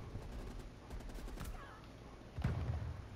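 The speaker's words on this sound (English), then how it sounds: "Shotgun close" Shotgun blasts from Call of Duty: Black Ops Cold War: one sharp, heavy report near 1.4 seconds and another louder, booming shot near 2.4 seconds, both close and cutting through continuous game noise.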